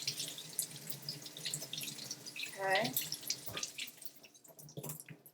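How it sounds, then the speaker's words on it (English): Cold tap water runs into a sink while a green papaya is washed under it, a soft splashing stream with small drips and knocks, and someone speaks briefly. "So I'm going to go ahead and wash it with cold water."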